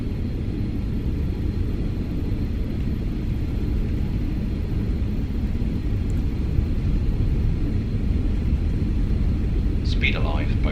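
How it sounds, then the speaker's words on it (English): Steady loud rumble and roar of BAe 146 jet engines at takeoff power in a flight simulator game, a continuous broadband drone filling the whole stretch with a brief higher chirp near the end. "Let's do a rolling takeoff. Oh, power, takeoff."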